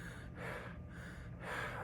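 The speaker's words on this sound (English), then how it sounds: "you can hear me breathing." Heavy, labored breathing of a patient recovering from aortic valve surgery, with slow audible inhales and exhales in a steady cycle, close to the microphone with no talking.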